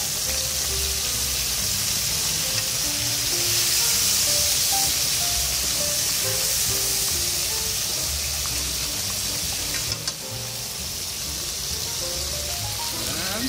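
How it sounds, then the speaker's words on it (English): Baby scallops hiss in a pan with garlic already browned in oil, a dense, even frying noise with a slight shift partway through, close and continuous, with no talking. "Start cooking baby scallop in."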